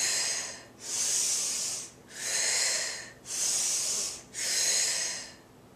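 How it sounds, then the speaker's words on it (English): A person doing turtle breath breathing, with slow alternating inhales and exhales: four long, loud, airy breaths of about a second each, separated by short pauses, close up and with no talking. "turtle breath breathing. So I'm just going to inhale and exhale and show you a couple of cycles."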